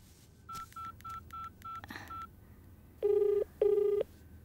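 A phone keypad beeps through a run of short, evenly spaced dialing tones, followed by two longer, louder tones as the call goes through, clear and close in a quiet room.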